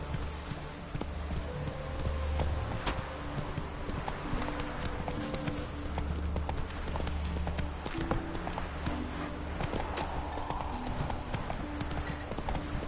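Roach, a horse in The Witcher 3: Wild Hunt video game, trots with steady rhythmic clip-clop hoofbeats throughout, joined by game ambience and character voices speaking over it.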